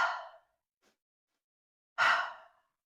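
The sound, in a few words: three-part breath: two nose inhales, one mouth exhale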